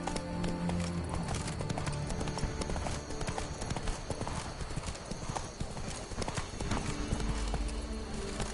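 A horse gallops in The Witcher 3: Blood and Wine, its rapid, rhythmic clip-clop hoofbeats steady and prominent over a dense game soundscape for the whole stretch.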